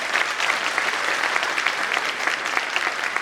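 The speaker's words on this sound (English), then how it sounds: "Now please give a big round of applause for Dr. Sibghatullah Khan" Steady audience applause fills a lecture hall at an academic literary event, dense and continuous clapping from a large crowd with no talk over it.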